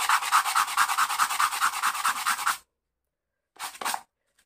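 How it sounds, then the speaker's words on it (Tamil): A cut piece for a small DC motor water pump is rubbed with an emery sheet in fast, rhythmic scratchy back-and-forth strokes. A pause follows, then a short second burst of rubbing, close up with no talking. "எதை கட் பண்ணாலும் நம்ம எம்ரி ஷீட் வச்சு தேய்ச்சிக்கிறோம்"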